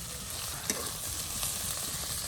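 Sliced onion and prawns fry in a hot pan, hissing with a dense, even sizzle that sits close and loud throughout, with one brief sharper crackle near the start.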